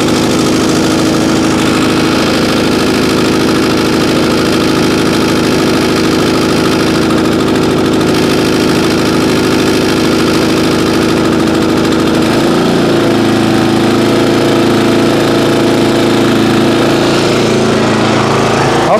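A small lawn care equipment engine idles on choke, running loud and close with a steady buzzing drone; partway through, the engine note drops and shifts slightly, then settles into an even idle.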